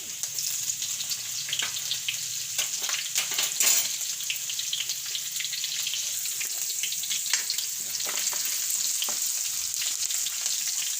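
Ginger and green chillies sizzle steadily in hot oil in a pan for a Gujarati chavana shaak, with a continuous close frying hiss and occasional clinks of stirring.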